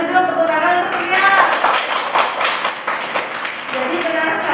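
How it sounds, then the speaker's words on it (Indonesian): Students in a sixth-grade classroom clap for a classmate named Tria, a close, lively burst of handclaps that builds and keeps going with voices mixed in. "tepuk tangan untuk Tria"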